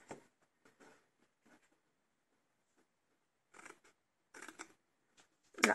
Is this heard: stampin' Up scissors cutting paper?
yes